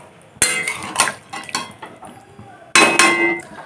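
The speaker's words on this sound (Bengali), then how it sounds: "আর পটল আর আলু সিদ্ধ হওয়ার জন্য এখন থালা দিয়ে চাপা দিয়ে দেব" A metal plate is set down as a lid over a pot of potol and potatoes boiling on a high gas flame. Two sharp metallic clanks ring out with smaller scrapes and clinks between them.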